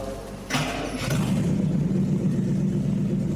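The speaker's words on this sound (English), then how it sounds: "We got the engine running." Classic car engine fired up after a loose fuel filter hose was tightened, cranking briefly before catching and settling into a steady, loud, rumbling idle close by.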